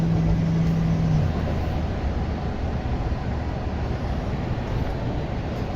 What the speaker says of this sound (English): The engine runs very well.